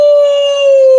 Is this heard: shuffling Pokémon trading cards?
no